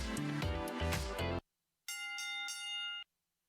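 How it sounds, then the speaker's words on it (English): Loud music cuts off, then after a short silence a bell rings clearly with a few bright, sustained strikes that stop abruptly. "Can I get the bell one more time?"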